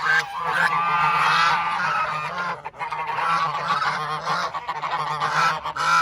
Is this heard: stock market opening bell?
no